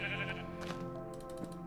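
A video game sheep lets out a single wavering bleat, faint and somewhat distant, set over a steady, low game background.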